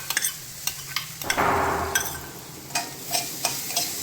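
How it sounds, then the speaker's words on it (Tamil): Grated coconut and semolina roasting together in a heavy pan for Chettinad ukkarai, a dry crackling sizzle with a burst of hiss as the coconut goes in, then rhythmic scraping stirs. "தேங்காய் பூ சேர்த்து நல்லா வறுத்துக்கும்"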